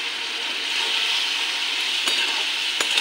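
Turmeric is stirred into mango chutney in a pan, giving a steady close scraping and sizzling texture with a couple of sharper knocks near the end.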